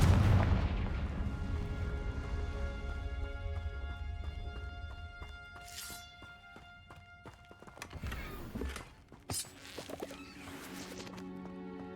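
A Confringo blasting spell goes off in a Harry Potter video game, with a heavy booming blast at the start whose rumble decays, followed by softer thuds, swooshes and scattered game effects.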